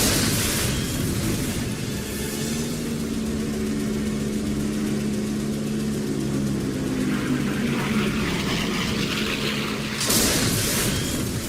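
A deep, roaring rumble of a large explosion fills the whole stretch, heavy low-end boom with a sharp rushing burst near the end, as a World War II kamikaze plane strikes the aircraft carrier Saint-Lô's flight deck.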